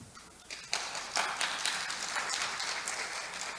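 At a Won Buddhist Sunday service, the audience begins clapping after a brief quiet moment. The applause swells into a sustained, moderately distant patter of many hands that continues to the end.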